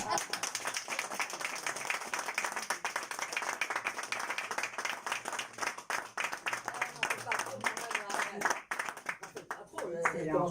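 A live comedy show audience breaks into sustained, dense clapping that continues for several seconds before tapering off, with a voice faintly heard near the end.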